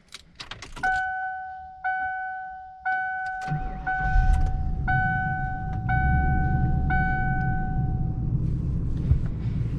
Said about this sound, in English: let's start the car and get on with this drive